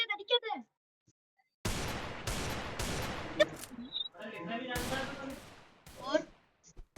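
Rapid bursts of video game gunfire crack out in several loud volleys, with a short distant blast between them, while players speak over the shooting in short snatches.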